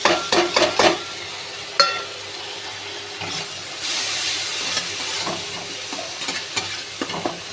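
Spices stirred and fried in a pan, a steady sizzling hiss broken by clustered scraping strokes at the start and scattered spoon knocks later, close and fairly loud with no talking.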